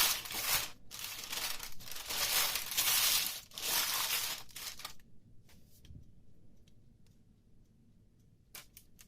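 Baking paper crinkles and rustles as it is pressed into a cake tray, with several bursts of crackling close by, then quieter handling and a few faint taps.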